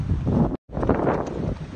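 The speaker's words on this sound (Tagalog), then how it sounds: "Kita mo na yung lakas ng hangin, no?" Strong wind buffets the microphone outdoors in a loud, steady roar with one brief dropout, and no talk.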